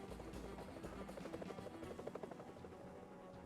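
Two helicopters fight each other in the video game Tomb Raider III. Their rotors make a low, steady chop that stays faint and sits under militaristic music the whole time.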